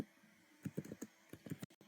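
A handful of close, distinct keystrokes tap out a file name on a computer keyboard in a short uneven run, ending in a couple of sharper clicks, with no voices.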